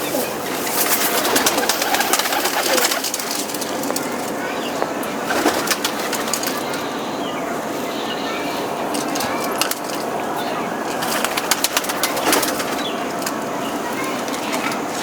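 Pigeons coo and flutter near a loft in a village setting, soft repeated throaty calls mixed with bursts of wing noise and a few clicks, heard under a constant hissy background.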